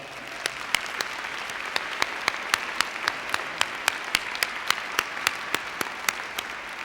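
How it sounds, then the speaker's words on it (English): Steady audience applause fills a high school graduation ceremony, with sharp individual claps standing out in an even rhythm over the crowd's continuous patter. "Let's give them a round of applause."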